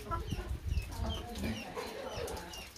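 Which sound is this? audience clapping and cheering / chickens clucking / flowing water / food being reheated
chickens clucking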